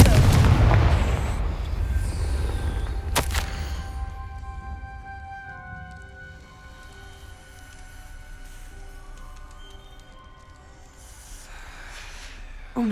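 Fire-spell blasts from Hogwarts Legacy: a heavy booming burst up front with a sharp crack soon after, then ringing, fading tones and a low rumble that settles as the echoes decay.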